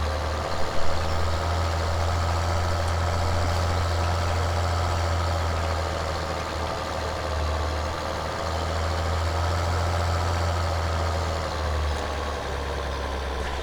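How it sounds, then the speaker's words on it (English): In Farming Simulator 2013, a tractor hauling a heavy full load drones with a steady low engine rumble that strains continuously at moderate volume, with no voices. "you can tell even this tractor struggles to pull this load a little bit"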